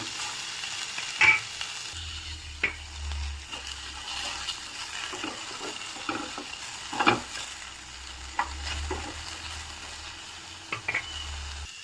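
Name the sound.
okra frying and being stirred in a pan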